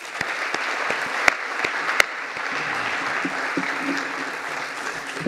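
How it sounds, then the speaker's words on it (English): An audience at a 10-year anniversary celebration of UCLA's Y&S Nazarian Center for Israel Studies applauds steadily for about five seconds, a dense patter of claps with a few sharp, louder individual claps standing out near the front. "I'd like to once again applaud both of you."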